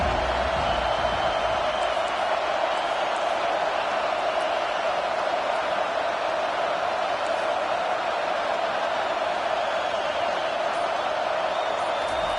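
A football stadium crowd roars in a steady, dense wash of cheering and noise that holds without a break.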